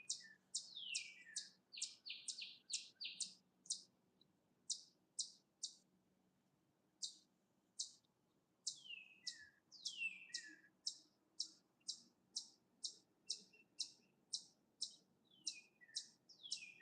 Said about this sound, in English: Here, noise-making, chirping creature.